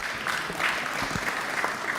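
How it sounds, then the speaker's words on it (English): Dense clapping from a crowd, a steady patter of many hands applauding at moderate volume for a couple of seconds. "they deserve a round of applause"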